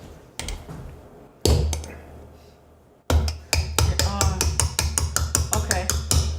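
A wire whisk is slammed against the edge of a mixing bowl in a home kitchen at Christmas time: a few separate knocks, then a quick, steady run of about a dozen sharp, close taps.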